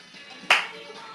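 A single sharp hand clap during a senior fitness side kick exercise, one crisp, close snap rising briefly above a quiet room background.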